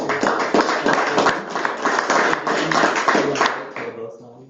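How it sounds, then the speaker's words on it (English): An audience at a school board meeting gives a round of applause for the teacher of the year, a dense burst of many hands clapping that holds steady for about four seconds before trailing off, with faint talk emerging at the end. "Let's give her a round of applause."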